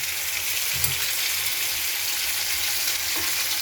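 Ginger-cumin paste sizzling in a hot pan, a loud, continuous close hiss of frying with a couple of soft stirring bumps and no speech.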